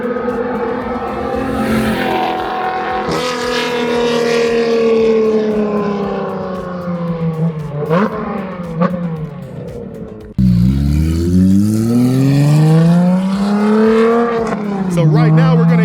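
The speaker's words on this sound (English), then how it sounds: "we're gonna hear some flyby so you can hear this car and what it sounds like from the outside of it" A Corvette C8 Z06 or Porsche 911 GT3 sports car passes by outside, engine note rising and falling through a loud flyby, then a second louder pass sweeps up and down as the car screams past close by.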